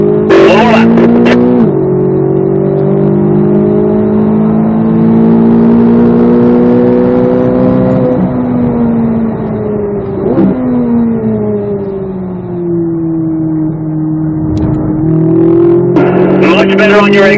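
A Corvette Z06 race car engine roars loudly on a track, climbing steadily through long pulls with brief dips at each gear change. An instructor's voice comes over it now and then.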